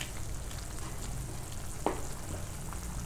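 Bundi in a green onion curry simmers in a pan, giving a steady, soft bubbling hiss throughout with one brief clink partway through.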